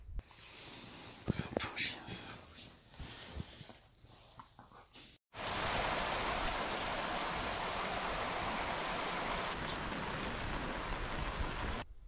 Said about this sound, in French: Aujourd'hui, il pleut